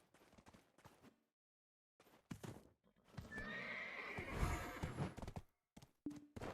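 Horse in the Black Desert video game giving a loud whinny, with hoof clip-clops and thuds before and after, fairly close and with no talk over it.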